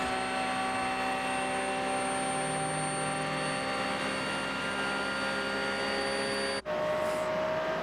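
A rear-engined race car at the Rolex 24 at Daytona whines steadily at a high pitch, sustained and even, with a brief cut near the end before it resumes.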